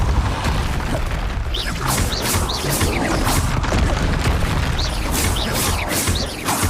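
Confringo spell blasts in Hogwarts Legacy go off in a rapid series of booming, crashing impacts, loud and close, with scattered smaller pops between them.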